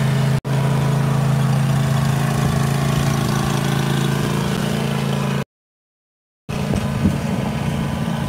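A lawn mower runs steadily while cutting a neighbor's grass, a constant droning hum close by that cuts out briefly near the end before resuming, with no voices.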